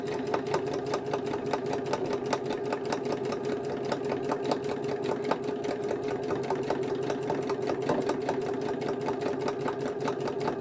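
A sewing machine stitches a gardening journal cover in a fast, even run of needle strokes, close and steady throughout with no pauses.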